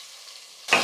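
Thinly sliced onions drop into a hot pan and burst into a sudden loud sizzle near the end, after a quiet low hum.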